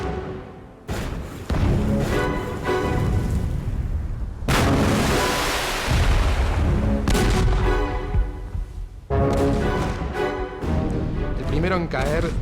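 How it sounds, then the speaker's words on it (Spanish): Naval artillery thunders during an exchange of fire between warships, heavy booms and blasts rolling one after another under continuous narration. "comienza el intercambio de fuego"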